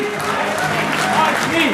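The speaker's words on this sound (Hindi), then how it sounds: "आप सब की भरपूर तालियों में बागी जावेद हाशमी।" A crowd at an Imran Khan political rally in Paris in 2012 applauds in a dense, steady wash of clapping and cheering, with a voice carrying faintly over the noise.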